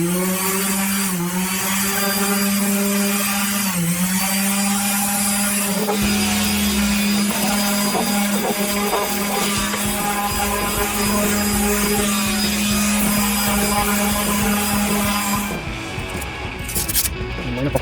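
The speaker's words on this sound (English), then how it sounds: "so now I'm gonna go ahead and sand my cutting board" An orbital sander works a wooden cutting board with 120 grit sandpaper, a steady loud electric whine and buzz running continuously, briefly dipping in pitch under load, then cutting off near the end.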